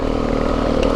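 A motorcycle engine running steadily, a close, loud droning hum with a rough low throb.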